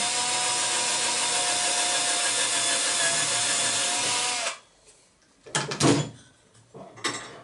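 A power drill fitted with a 4.5 mm bit runs steadily and loudly for about four and a half seconds, then stops, followed by a few short knocks and handling noises while building a small wooden toy boat.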